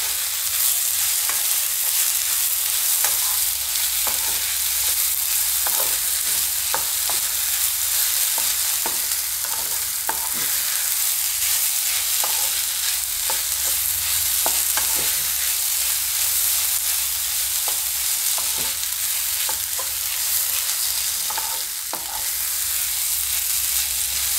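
Grated potatoes frying in hot oil for a Gujarati farali handvo, with steady loud sizzling and repeated scraping stirs of a spoon against the pan, no voices.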